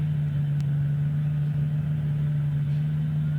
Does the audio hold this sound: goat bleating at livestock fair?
no